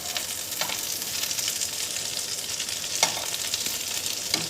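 Eggplant pieces sizzle in a covered pan and are turned over, giving a constant broadband hiss with a few sharp clicks and scrapes of the utensil, close and without talk.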